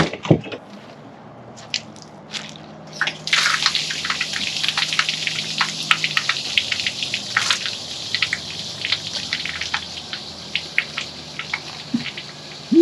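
Water splashes and gurgles steadily as an RV fresh water tank drains, with irregular drips and squishy bursts, fairly close and continuous, no talking.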